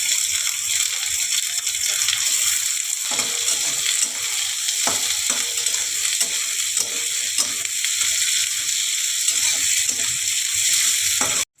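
Onions and nigella seeds frying in a pan for a Bengali ridge gourd and potato posto dish, with a steady close sizzle and occasional stirring scrapes throughout.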